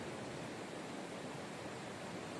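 A river swollen by heavy monsoon rain in Konkan rushes past as a dense, steady roar of water with no breaks, quiet and broad as if heard from the bank.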